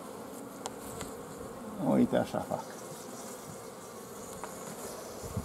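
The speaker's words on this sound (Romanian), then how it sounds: "vezi cum îi dă târcoale albina asta care zboară" A honey bee circles a small, depopulated nucleus hive, its faint buzz rising into a brief louder pass, while a person says a few quiet words.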